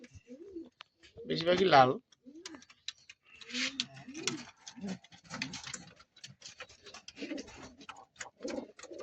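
Pigeons coo in soft, repeated throaty bursts at close range, mixed with fluttering and shuffling, while someone talks over them.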